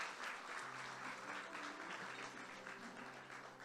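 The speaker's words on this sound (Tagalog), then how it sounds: "Palakpakan po natin ang Panginoon" Faint, steady applause from a church congregation during a Sunday worship service, a continuous wash of clapping heard at a distance with no break across the whole stretch.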